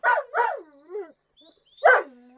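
A dog barks and yelps in short bursts while chasing a cat, with a few loud close barks separated by brief pauses and a whine-like trailing tone, no talking.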